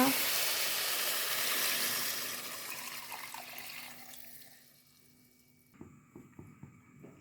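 Water rushes loudly into a pot of rice and gradually fades away, followed by a few light clinks and knocks against the vessel.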